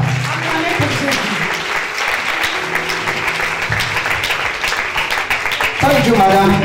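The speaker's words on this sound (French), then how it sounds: "Put your hands together. Acclamez pour Jésus." Applause rises from a church congregation acclaiming Jesus, a steady, dense wash of clapping that holds throughout and swells louder near the end, with a voice speaking over it.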